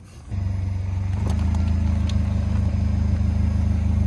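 Polaris Slingshot three-wheeled car engine in Las Vegas starting up and settling into a close, steady, loud idle rumble.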